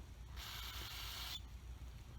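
A burst of aerosol cleaner sprayed into a spark plug from a V-twin Kohler engine on a Cub Cadet, a steady hiss of about one second, close and fairly loud, starting and stopping sharply.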